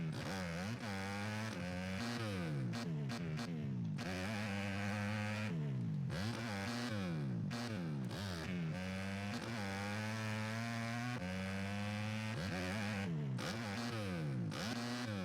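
A pit bike engine in MX vs ATV Legends whines and revs continuously at close range, pitch climbing and dropping in repeated throttle sweeps, with a brief dip near the middle, all with no talk over it.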